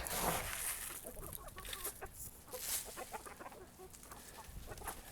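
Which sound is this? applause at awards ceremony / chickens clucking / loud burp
chickens clucking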